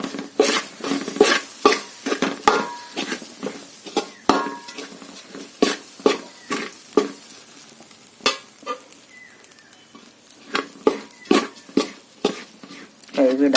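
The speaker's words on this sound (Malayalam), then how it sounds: "നമ്മളിനി മീഡിയം ഫ്ലെയിമിലേക്ക് വെച്ചുകൊണ്ട് വറക്കാൻ ആരംഭിക്കുകയാണ്" Dry parboiled red rice grains scrape and rattle as a spoon stirs them rhythmically in a hot pan over medium flame, repeated sharp strokes with a faint sizzle underneath.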